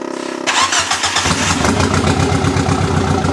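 Nissan 200SX S12 Turbo engine cranking over then catching and starting, settling into a loud, close, rough rhythmic idle with no talking.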